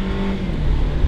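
A Mercedes C180 Turbo accelerates hard in Sport mode, heard from inside as a loud, close engine drone that rises steadily in pitch over about a second, with no talking.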